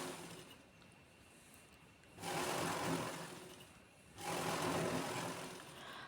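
A sewing machine stitches cloth for a princess-cut blouse in two sustained runs of dense whirring, each about two seconds long with a quieter pause between, close but soft.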